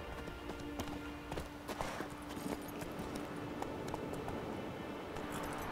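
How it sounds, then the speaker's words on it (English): Horse hooves clip-clopping in The Witcher 3: Wild Hunt, a series of light, irregular hoof taps at a walking pace over quiet background ambience, faint and somewhat distant. "We can get a horse."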